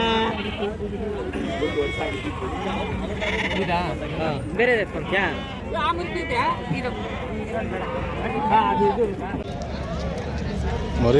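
At the busy Amingad sheep and goat market in Karnataka, sheep and lambs keep up a chorus of overlapping bleats near and far, with hooves shuffling and people talking over the flock.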